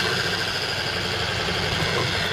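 A pad washer spins a buffing pad inside its tub, giving off a loud, continuous whirring motor roar with a steady wash of spray noise and no pauses.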